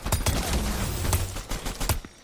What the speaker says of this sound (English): the great thing about the grenade launcher is, you know, if you find spots on the map where you can kind of bounce the grenade launcher